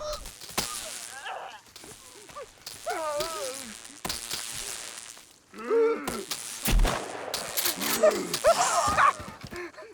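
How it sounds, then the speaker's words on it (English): Gunshots in the survival video game Sons of the Forest, a few sharp broadband cracks scattered among game sounds, with someone talking over most of it. "Warning shot, come on, move."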